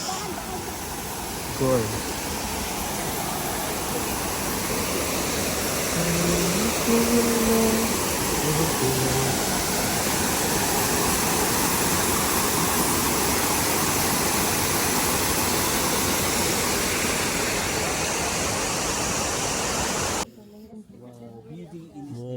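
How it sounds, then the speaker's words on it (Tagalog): A waterfall roars steadily at a plum blossom festival, a loud, dense rush of falling water that fills the scene for about twenty seconds before cutting off, with a voice speaking briefly over it. "Kasi waterfall. Ang lakas ng water ah."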